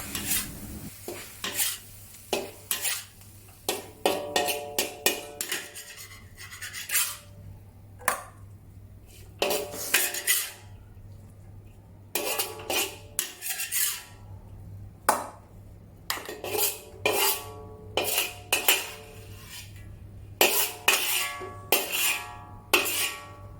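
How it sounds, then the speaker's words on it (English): Long beans tossed with pork and Thai basil in a wok, a spatula scraping and clanking against the metal in repeated sharp strokes over a steady low sizzle, close and clear with no talking. "add the long beans to mix and remove from the wok"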